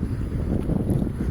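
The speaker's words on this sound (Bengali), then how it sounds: "ওই যে দেখেন এবার যে একটি স্পিড বোট যাচ্ছে।" A speedboat runs across the water near Male in the Maldives. Its low engine rumble and water rush sound steady and fairly loud, with wind buffeting the microphone.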